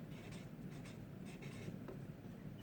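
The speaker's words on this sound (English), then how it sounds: "so you can watch me write" Handwriting on a board with a marker or chalk gives soft, faint scratchy strokes in short repeated bursts over a steady room hum.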